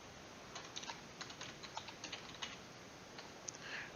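Typing on a computer keyboard, a quick irregular run of soft close keystrokes with brief pauses, alone without talk.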